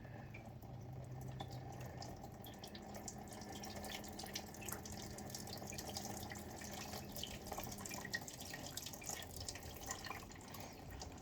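Fluid draining from a recently run 2016 Arctic Cat 500 ATV and splashing into a tub below, a steady close liquid trickle and spatter with scattered drips throughout.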